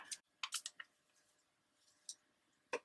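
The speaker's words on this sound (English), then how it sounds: "I am going to just going to cut it out with the scissors and hope I get it mostly straight." Scissors cutting out a piece of colored paper by hand, a few quick snips and crisp clicks in a short cluster, then a pause and two more isolated snips, close and quiet with no talking.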